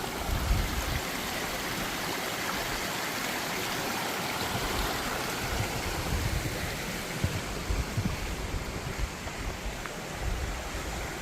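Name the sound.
spring-fed stream flowing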